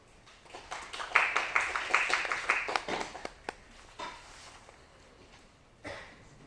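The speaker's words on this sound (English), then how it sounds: "let's give applause to welcome Professor Chen" An audience claps to welcome Professor Chen before an academic talk on kernel adaptive filter algorithms; a short burst of moderate clapping that rises, then thins to scattered claps and fades, with a few stray claps near the end.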